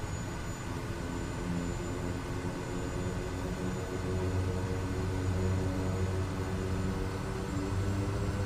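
Kodiak 100 turboprop engine in Microsoft Flight Simulator throttling up, a steady dense engine roar and whine filling the scene, loud and continuous with no voices.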